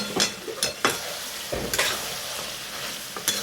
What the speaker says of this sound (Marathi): हे खोबरं पण ह्याच्यावर चांगलं भाजून घेते आता मी गॅस फास्ट करते जरा